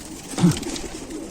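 A single low coo from a pigeon of a Ukrainian high-flying breed, close and fairly loud, over a soft background hiss, brief and alone with no talking.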